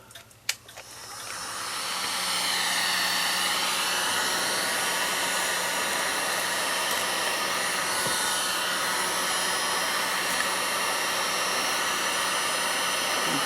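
A heat gun roars steadily and close at full blast after a click and a short ramp-up, blowing hot air onto a piece of a 1919 Gilbert mantel clock case to loosen it for a putty knife.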